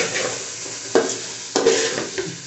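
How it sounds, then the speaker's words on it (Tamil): Okra stirred through masala in a hot pan, a soft continuous sizzle broken by two sharp scraping strokes of a spatula, close up with no voices. "வெண்டைக்காய் போட்டு நல்லா மிக்ஸ் பண்ணிவிட்டு"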